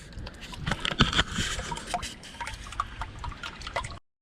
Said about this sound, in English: Mudslide. Yeah, she's flowing now.